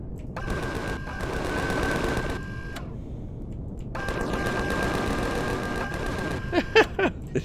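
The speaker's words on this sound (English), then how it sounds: "there's a cannon drone" Bursts of rapid automatic gunfire from a cannon drone in the video game Empyrion Galactic Survival, two long sustained volleys with a brief gap, followed by a few sharp single shots.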